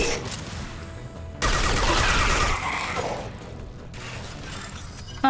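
Laser weapon fire in the sci-fi video game Mass Effect 2, a loud sustained burst of mechanical, crackling gunfire lasting about a second and a half amid ambient game sound, with no talking.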